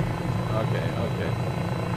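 Cowansim M500E helicopter in Microsoft Flight Simulator, a steady close rotor and engine drone with low-frequency chop running unbroken throughout.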